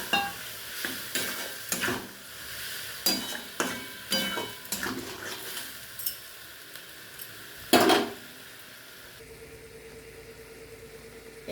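Mushrooms cooking in a pan, with spoon stirring scrapes and clinks over a steady sizzle of frying, a series of close strokes with one sharper knock near the end before the sizzle settles.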